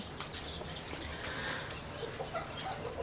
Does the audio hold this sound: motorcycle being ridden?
no